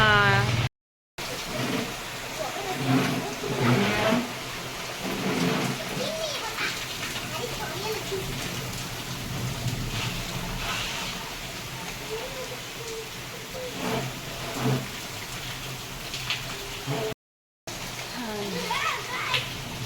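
Heavy first monsoon rain pouring steadily outdoors, a dense continuous hiss with splashes, and children's voices and adult speech heard over it.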